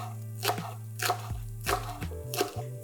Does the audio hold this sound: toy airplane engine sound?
no